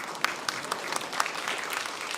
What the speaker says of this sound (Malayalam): ഇത് ഒരു കയ്യടി വാങ്ങിച്ചിട്ട് പോകും പ്ലീസ്